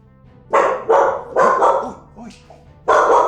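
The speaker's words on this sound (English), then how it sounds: "What are you even barking at?" A dog barks several times nearby, loud sharp woofs in quick pairs with short gaps, plus a brief softer yip in between.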